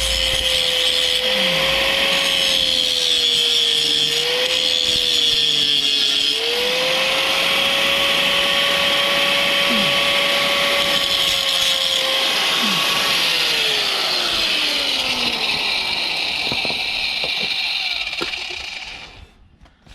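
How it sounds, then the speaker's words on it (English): A power tool grinds metal on a 2007 VW Beetle, a loud, close, continuous whine with its pitch shifting under load, before it winds down and stops at the end. "So I just need a tad more grinding."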